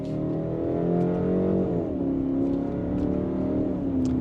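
A 2025 BMW X3 xDrive30 in sport mode pulls hard from second gear, its engine note steady and rising in a continuous close, loud drone with smooth pitch shifts as it climbs through the revs.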